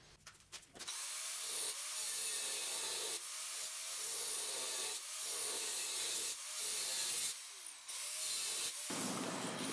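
A power tool grinds steadily through a rusted frame member of a 1970 Triumph TR6, loud and close, in long continuous passes broken by short pauses.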